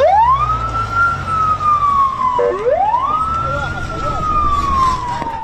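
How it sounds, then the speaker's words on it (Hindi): Ambulance siren wailing through Gaza streets amid airstrikes, loud and close, rising and falling in long sweeps with a brief dip midway, over traffic rumble. "सड़कों पर एम्बुलेंस की गाड़ियां दौड़ रही हैं"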